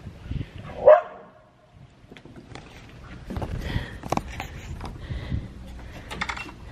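A single sharp dog bark early on, followed by quieter rustling, clicking and mechanical shuffling nearby.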